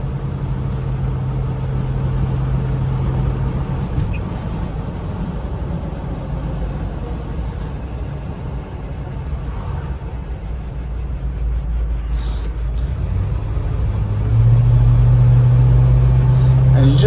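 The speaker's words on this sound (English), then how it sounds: "You just gotta love the Ford 351. Great engine." A 1979 Ford Bronco's Ford 351 V8 engine hums steadily while driving, a low rumble with a deeper tone rising near the end.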